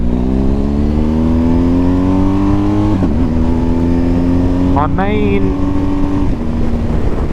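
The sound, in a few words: BMW R1250GS motorcycle engine while riding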